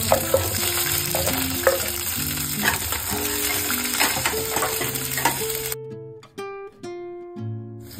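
Peanuts and green chilies crackle and spatter in hot oil for sabudana khichdi, a dense near sizzle with stirring clatter that thins toward the end, leaving faint tonal ringing.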